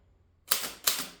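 Two sharp mechanical clacks from the shift key of a Urania 5 typewriter, close and distinct, spaced about a third of a second apart in a quiet room.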